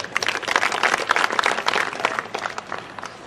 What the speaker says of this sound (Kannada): ಜೋರಾಗಿ ಚಪ್ಪಾಳೆ ಒಂದು ಕಟ್ಟಿಯಲ್ಲ